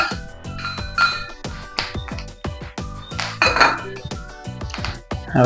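Metal spoon scraping and clinking against a pan while cumin seeds and curry leaves are stirred for Bombay vada pav, a quick run of sharp knocks and clatters, close and fairly loud, with no talk.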